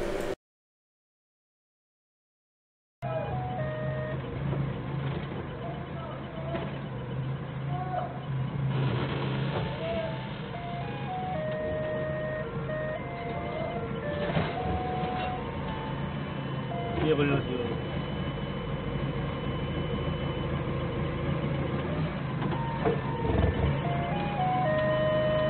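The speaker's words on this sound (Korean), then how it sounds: "후방 감지기 엄청 팩팩 되죠?" Rear parking sensor on a forklift beeping steadily while it reverses slowly to unload panels in a narrow alleyway, a repeating electronic tone over engine rumble with someone talking throughout.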